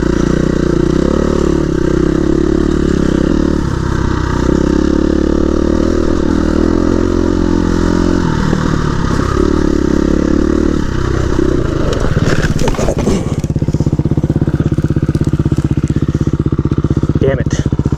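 Enduro motorcycles, KTM, Husqvarna, Beta, Suzuki and Kawasaki bikes, roar steadily and loudly on a group trail ride, with the engine pitch shifting and clattering through a rough stretch. A voice talks over the noise.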